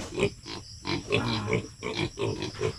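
A large pig grunting repeatedly up close, a series of rhythmic, throaty snorts and oinks coming in quick bursts with short pauses between them.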